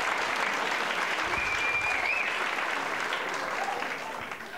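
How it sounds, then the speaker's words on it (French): An audience at a high school talent show final applauds after a song, a dense, steady wash of clapping with faint cheering that fades slightly toward the end. "Si vous avez apprécié ça, vous pouvez applaudir."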